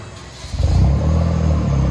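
A 2010 Hyundai Genesis 2.0L turbo with dual straight-pipe exhaust idles with a deep rumble, then revs up sharply and holds a loud, steady drone close by.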